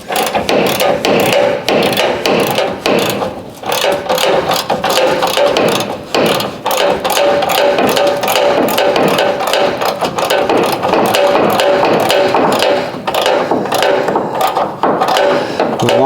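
A ratchet works a socket on a bolt inside the frame of a 1970 El Camino, giving a steady, fast run of close, loud metallic clicks that continues almost without a break throughout.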